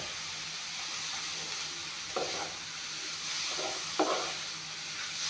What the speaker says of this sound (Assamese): এয়া চাওক অমিতাখিনি ভাজি ল'লোঁ